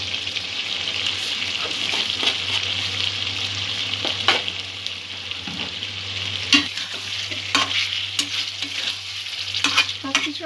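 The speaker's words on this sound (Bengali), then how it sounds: "সবকিছু আবারও একটু নাড়াচাড়া করে 2-3 মিনিট কষিয়ে নেব" Spinach and potato curry sautéing in a pan sizzles steadily while a spoon stirs it, adding intermittent scrapes and clicks over the continuous close frying hiss.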